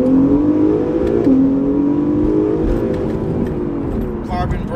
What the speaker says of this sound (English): You can finally hear how the motor just hums a little bit.